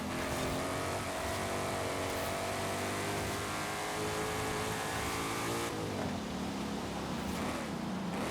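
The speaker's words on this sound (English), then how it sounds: "Who thought it was a good idea to have everybody race Mustangs?" Mustangs race on a wet track in the Forza Horizon video game, their engines droning loudly and continuously with revving, shifting pitch. A sudden change in tone comes partway through.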